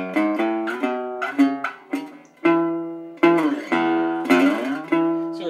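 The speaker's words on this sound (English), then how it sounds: "we can take a look at the whole string vibrating" A guitar string is plucked repeatedly, each note ringing clearly and decaying, in an uneven sequence of about a dozen close, bright tones.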